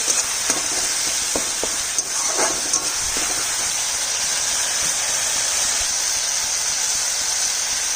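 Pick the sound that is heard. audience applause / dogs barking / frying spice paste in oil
frying spice paste in oil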